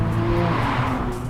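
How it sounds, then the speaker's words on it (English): A 2019 McLaren 570S with a roughly 560-horsepower engine roars loudly and continuously, exhaust note dense and sustained with a rough, gritty edge throughout the short burst. "It's got a very different exhaust noise to it."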